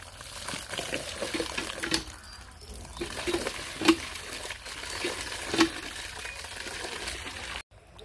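Cut vegetables for a curry are washed under running water, a soft continuous splash and trickle with occasional clinks, ending abruptly near the finish.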